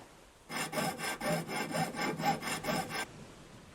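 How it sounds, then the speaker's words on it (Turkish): Steady back-and-forth sawing through scrap ship metal in the video game Ship Graveyard Simulator, about six rhythmic strokes in a close, loud burst that stops abruptly, with no talking. "Bunu testereyle yapmamız gerektiğini söylüyor."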